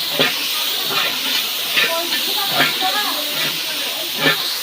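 Fish for a Bengali fish kalia frying in hot oil gives a steady, bright sizzling hiss, swelling into sharper crackling bursts about once a second, with voices faintly in the background.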